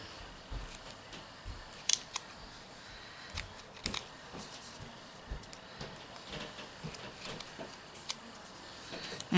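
Scissors snip through excess double-sided tape on a mixed media piece, a series of quiet crisp cuts with small sticky clicks, close and alone.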